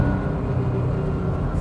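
Porsche 911 exhaust running through a titanium 991 GT2 RS side-exit muffler on an air-cooled 1985 911 built with 997 Cup car parts, a steady throaty low drone heard from inside the car, even in level with no clear revs.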